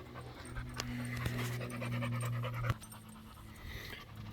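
A dog pants in the heat, with quick, steady breaths close by over a low constant hum and no talking.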